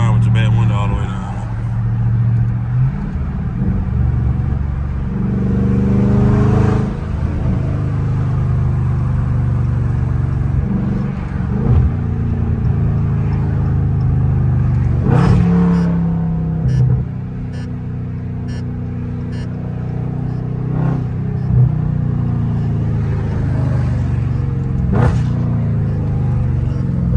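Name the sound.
catless Dodge Charger Scat Pack engine revving in traffic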